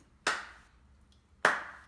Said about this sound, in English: You gotta give them a slow clap. That's a slow clap.